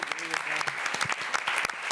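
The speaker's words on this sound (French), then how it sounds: "Sa performance a amené le public à applaudir." Audience applause at a Cannes press conference for the film Elvis, a dense, steady wash of many hands clapping close and loud throughout, with a voice speaking briefly over it.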